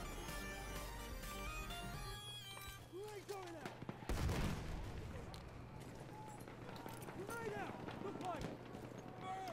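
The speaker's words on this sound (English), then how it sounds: "who's dropping fucking mortars, dude?" Distant mortar blasts and gunfire crackle in the video game Battlefield 1, with a sharp thump midway and scattered shots under steady game background noise and a talking voice.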